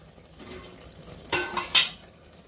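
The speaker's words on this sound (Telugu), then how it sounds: "ఇంకా చికెన్ అయితే వేసుకుందాము." Chicken pieces tipped into a pan of spice-coated ginger-garlic paste for a chicken and mushroom curry, then stirred, giving a couple of brief scraping clatters of utensil against metal that grow louder toward the end.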